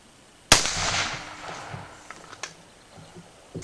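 A .357 Magnum revolver fires a single cast-bullet load: one loud, sharp crack with a burst of broadband energy that decays into a trailing echo over the following seconds.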